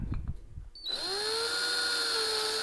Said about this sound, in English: I'm gonna do also is ream this hole out